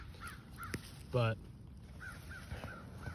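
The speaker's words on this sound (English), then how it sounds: "There's a another red tail hovering above us, so the crows are going crazy." Crows caw excitedly at a red-tailed hawk hovering overhead, with several harsh calls at moderate distance, one louder and closer burst, and a person speaking briefly nearby.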